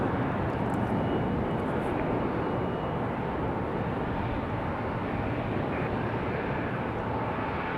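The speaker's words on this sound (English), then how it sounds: "So Air Canada arriving at their gate." An Air Canada airliner taxis toward its gate at Raleigh-Durham International Airport, a steady, broad engine roar that holds even and loud throughout, with no voices over it.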